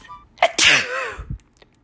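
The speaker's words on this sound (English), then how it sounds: "I have to sneeze" A single sharp sneeze, close and loud, with a quick intake of breath before the explosive burst.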